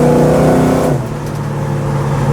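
A 1970 Chevrolet Chevelle SS roars loudly as its engine revs hard while accelerating, then the pitch drops as it eases off into a lower steady hum.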